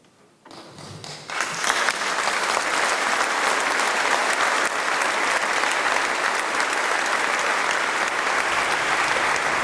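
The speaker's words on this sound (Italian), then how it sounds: "Un lungo applauso a concludere in qualche modo questo rito funebre composto, misurato" Long, dense applause from a crowd closing the funeral rite for cyclist Felice Gimondi, rising within the first second and holding steady and full to the end.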